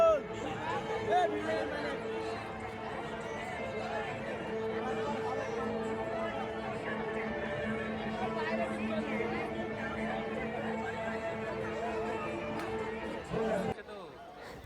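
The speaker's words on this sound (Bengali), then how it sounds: "সব জায়গায় এত ভিড়, এত ভিড়, এত লোক এসছে" Dense crowd chatter fills a busy village fair, the Nagar Mela at Khargram in Murshidabad, a steady babble of many voices with rides nearby, continuous and fairly loud until it drops away near the end.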